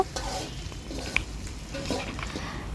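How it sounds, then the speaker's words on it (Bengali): Bay leaf, cinnamon and cardamom being stirred as they fry in a pan for beef curry, a soft continuous sizzle with faint scraping of the spoon, quiet and close. "তারপর সবগুলোকে একটু নেড়ে চেড়ে নিতে হবে সুন্দর ফ্লেভার বের হওয়ার আগ পর্যন্ত।"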